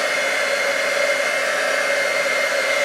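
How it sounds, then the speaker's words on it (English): A heat embossing tool blows hot air over glitter embossing powder on a punched-out piece, a steady, close whooshing hiss much like a hair dryer that runs unbroken throughout. "I'm going to grab my heat embossing tool. And really quickly I'm just going to hold it down."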